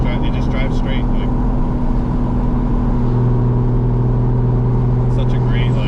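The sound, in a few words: Toyota GR86 with 2JZ engine driving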